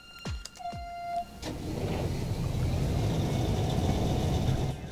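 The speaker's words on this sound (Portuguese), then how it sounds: "Escutamos o ronco do motor." Challenger MT-700 tractor in Farming Simulator 17: a short mechanical whine and two passing whooshes at the start, then a steady, loud low engine rumble idling continuously, with no talking.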